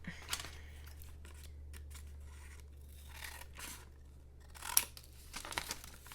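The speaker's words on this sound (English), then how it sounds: "I'm just gonna trim both sides so it takes off about 1/2 inch" Scissors snip through paper edges for a sunflower and honey bee craft book, a series of close crisp cuts with light rustling and crinkling of the sheets, no talking.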